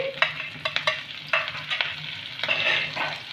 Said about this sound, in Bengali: এবার রসুন আর কাঁচা লঙ্কাটাকে আমি 2 মিনিটের মতন একটু ভেজে নেব।